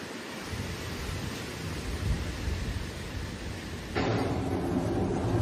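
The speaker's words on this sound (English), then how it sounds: "strong convective weather such as thunder and lightning, strong winds, and short-term heavy precipitation began to appear in many places in Chongqing" A violent night storm in Chongqing, China, with strong winds and heavy rain roars as a dense, continuous rushing noise, rising suddenly louder and brighter near the end.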